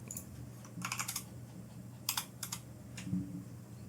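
Typing on a computer keyboard in short bursts of quick key clicks with pauses between, fairly close, over a low steady room hum.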